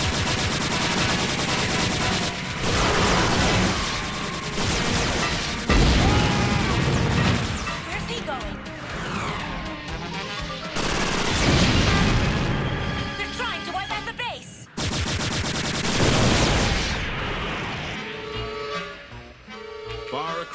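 Gunfire and explosions fill an animated battle at a military base, with dense machine-gun bursts and heavy booms running almost without pause at high loudness and voices mixed in.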